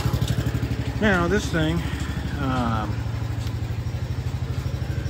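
A Wheel Horse lawn tractor's small engine idles steadily after starting, a close, even rhythmic putter throughout, with someone talking over it in the opening seconds.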